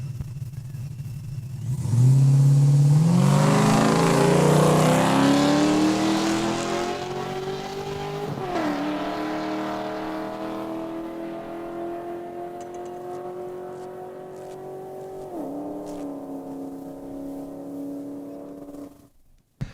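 A Blazer drag car launches hard and runs the quarter mile at a drag strip. The engine roars up through several gear changes, loud at first, then fading into the distance.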